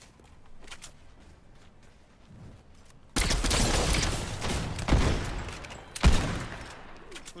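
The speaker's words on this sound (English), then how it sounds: "Who's shooting?" Fortnite gunfire: a sudden burst of rapid shots breaks out partway through after quieter footsteps and movement, with a loud sharp crack near the end over continuous close firing.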